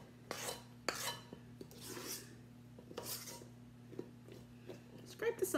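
A utensil scrapes the sides and bottom of a mixing bowl during home cooking, giving several short rasping strokes, moderately close, separated by pauses, with a steady low hum underneath and brief clatter near the end.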